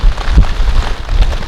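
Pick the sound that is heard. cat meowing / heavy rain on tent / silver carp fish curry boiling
heavy rain on tent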